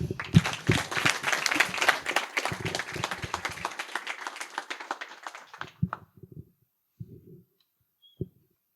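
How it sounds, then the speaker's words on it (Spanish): A burst of applause from a group, steady clapping for several seconds that thins out and stops, followed by a few scattered claps and quiet. "Ok, entonces aplauso a Ramón."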